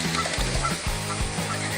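A goose honks repeatedly while chasing cows, a run of loud, close, nasal calls in quick succession over a noisy outdoor background.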